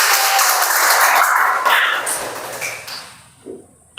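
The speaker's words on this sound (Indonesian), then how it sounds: "kami iringi dengan tepuk tangan." A room full of people applauds, loud and steady at first, then fading out over a few seconds.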